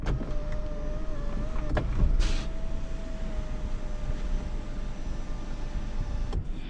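The sunroof motor of a 2020 Lexus NX300 F-Sport runs as a steady electric whine through the whole stretch inside the cabin, with a couple of faint clicks and rustles.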